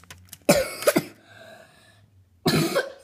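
A person with a cold coughs nearby: two quick, harsh coughs in close succession, a short quiet pause, then one more cough. Nobody speaks.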